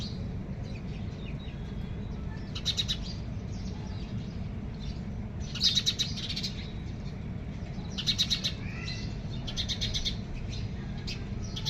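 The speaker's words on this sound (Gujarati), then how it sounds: "અહીંયા ચકલીઓ જો, ચી ચી ચી ચી ચી ચી ચી ચી ચી." House sparrows chirp in short clustered bursts every few seconds, fairly faint above a constant low rumble of background noise.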